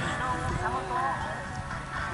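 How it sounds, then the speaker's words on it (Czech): Horse hooves clip-clop through a show jumping round at the Bezměrov 2016 competition, with a steady pattern of muffled hoofbeats heard under continuous spoken commentary. "Patrice Dráče s koníkem Xajer projíždí cílem"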